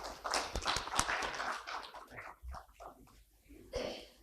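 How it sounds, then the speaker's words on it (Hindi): Applause welcoming a guest at a farmer producer organisation stakeholder meeting, a dense burst of hand clapping that is loud at first and then thins into scattered claps with a few voices mixed in. "सो मैं जोरदार तालियों से स्वागत कराना चाहूँगा निशान जी का।"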